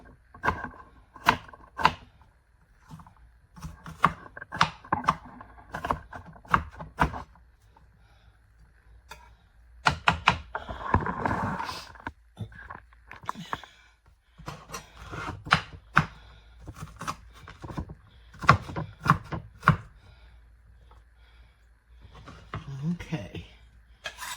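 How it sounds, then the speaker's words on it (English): Onions being chopped with a knife on a board for a one-pot lasagna, a run of crisp close taps in quick bursts with short pauses, a voice talking between them. "I'm going to chop up some onions to go in here."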